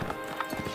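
Horse hooves clip-clopping at a gallop in the medieval combat game Mount & Blade Warband, several quick muffled beats close by over low game ambience.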